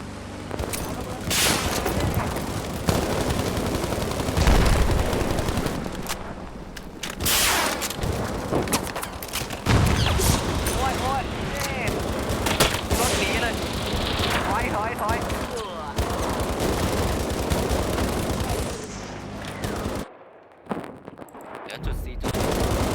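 Dense, loud gunfire from Battlefield, with sustained machine-gun bursts, rapid shots and occasional booms over about twenty seconds, and a voice cutting in now and then.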